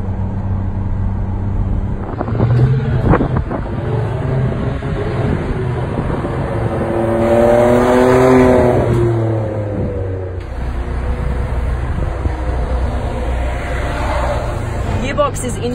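Ferrari 599 GTZ Nibbio Zagato V12 accelerating in second gear, a loud continuous engine drone rising in pitch through the middle and easing off, with a person talking over it throughout.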